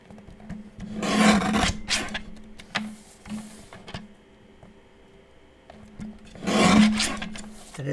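A guillotine paper trimmer slices pages of an altered-book mini album in two loud rasping strokes, with softer scraping and handling noises in between.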